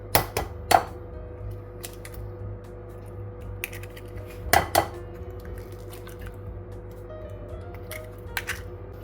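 Two eggs cracked against a bowl while making browned butter snickerdoodle dough, each a pair of sharp, close taps with a soft shell snap, set apart by quiet kitchen sounds.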